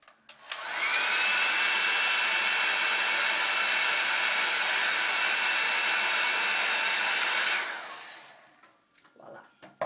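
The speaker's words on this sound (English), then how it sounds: "use a blow dryer and heat it up" Blow dryer running to heat an eyelash curler: a loud, steady whooshing roar that switches on sharply, holds for several seconds, then cuts off and fades.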